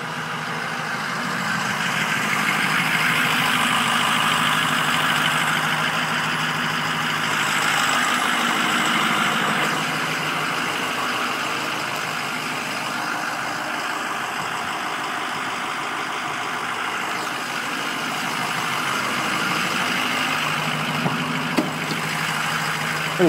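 A 2008 Ford E-450 Super Duty box truck engine idles close by for the whole stretch, heard at the exhaust, a continuous low rumble with a constant mid-range hum and no other sounds.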